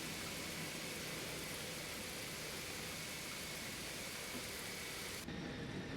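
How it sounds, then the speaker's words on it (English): Steady heavy rain on an Airbus A320 parked at Amsterdam airport in a flight simulator, a constant hiss with a low rumble underneath, cutting to a quieter tone near the end. "Man, it is raining. That is really bad weather."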